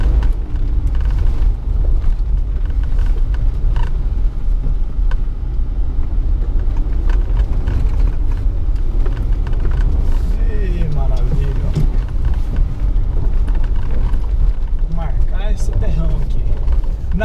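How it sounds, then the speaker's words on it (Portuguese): Ford Ranger Limited V6 pickup driving along a dusty dirt road, its engine a steady low rumble mixed with road and gravel noise throughout, while someone talks over it. "Olha lá, olha o motorzinho V6"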